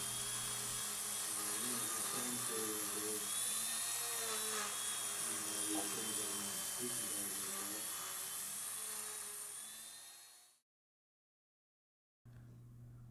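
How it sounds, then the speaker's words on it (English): A polishing brush loaded with polish compound spins against a gold ring, giving a continuous high whirring whine with shifting pitch for about ten seconds before stopping abruptly, then resuming faintly. "With a little polish compound and a polishing brush, these rings are really starting to take shape."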